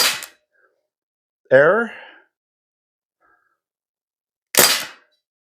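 Crosman ST-1 CO2 blowback steel BB machine gun in PDW mode, firing single sharp cracks near the start and end of a short stretch, with a brief spoken word in between and silence around them.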